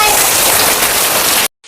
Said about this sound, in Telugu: ఒకసారి సౌండ్ వినండి, మీకు వినిపిస్తాను.